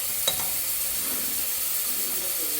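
Ginger stirred and fried in a pan for chicken porridge gives a steady, close sizzle and hiss with a soft utensil tap near the start.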